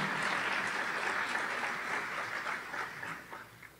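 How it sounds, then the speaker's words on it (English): A dense round of applause from an audience welcoming a community organization's board members as they stand, steady and full for most of the stretch before thinning slightly near the end. "Round of applause for them, please."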